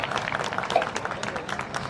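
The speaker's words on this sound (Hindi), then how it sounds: "सौरभ जी सब तालियां बजाएंगे एक साथ" An audience at a mushaira during a medical college annual fest clapping together, a dense, continuous patter of many hands, fairly close and steady throughout.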